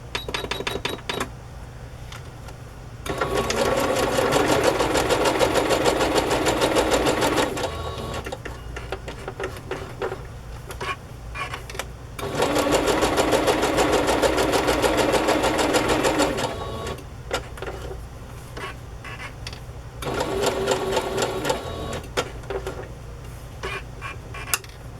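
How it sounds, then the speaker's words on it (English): A sewing machine runs a straight stitch around a fabric tag in three bursts of fast, even mechanical chatter, separated by quieter pauses with light handling sounds. "So I'm just going to sew around it. And we'll just use a straight stitch here."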